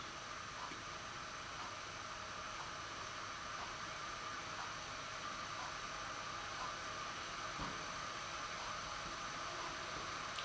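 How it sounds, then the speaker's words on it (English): A small battery whisk whirs steadily while dissolving DL-panthenol in a DIY conditioner bar batch, a faint continuous high buzz with light ticking, alone throughout. "You can always get my little whizzy tool"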